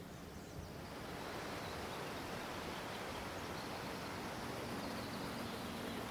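Roaring waterfall in British Columbia, a dense, steady broadband rush of falling water and spray that fills the scene at low level and never pauses.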